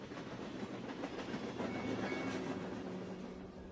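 A freight train runs on the railway line near Spaceport America, its wheels rolling in a faint, steady clatter with soft rhythmic clacks and no voices.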